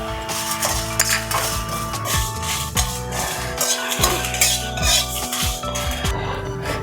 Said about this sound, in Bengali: কচুরির জন্য আমি একটু মশলাটা ভেজে নিয়েছি শুকনো লঙ্কা আর জিরে।